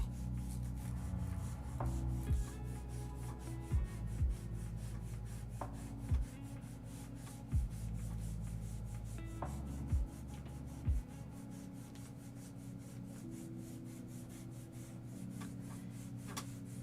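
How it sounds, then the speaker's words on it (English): An eraser nub rubs on paper during a drawing session, a soft continuous scratchy friction with faint periodic taps, close and quiet with no talking. "I don't imagine that this eraser nub is going to last much longer"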